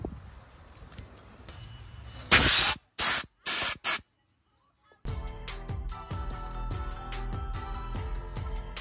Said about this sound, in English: let me get my blower and blow this stuff out